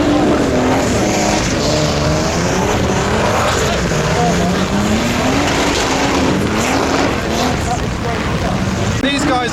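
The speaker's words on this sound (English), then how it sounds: "We've got a 4-car tandem doing a loop-de-loop." Four tuner cars drift in tandem through a loop, their engines droning loudly and continuously with rising and falling revs, close and unbroken throughout.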